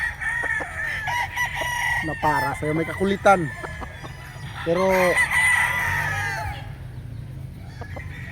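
An LDT Boston Millionaire gamefowl rooster crows loudly and close, in two drawn-out bursts, while someone talks over and between the calls.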